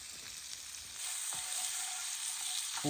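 Onion and sugar sizzle as they fry for burgers in a pan over a campfire in the forest, a steady close crackle that grows louder partway through with small stirring scrapes.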